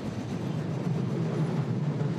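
Fichtelbergbahn narrow-gauge train running along its line toward a passing loop, a steady low rumble with rolling wheel noise, close and continuous, no voices.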